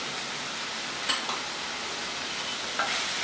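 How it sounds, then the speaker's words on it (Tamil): Boiled lima beans sautéing with ground sesame powder in a pan give a soft, steady low sizzle with a couple of faint stirring scrapes, alone and fairly quiet. "இந்த மொச்சைக்கொட்டை கூட எள்ளு சேர்த்து நல்லா 3 நிமிஷம் வதக்கி விட்டுட்டோம்"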